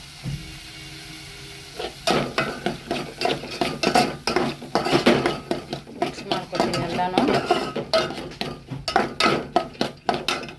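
Turmeric and salt stirred into a cooking pot while making masala paddu, a rapid run of scraping, clinking spoon strokes against the pot starting after a quiet moment and continuing steadily to the end.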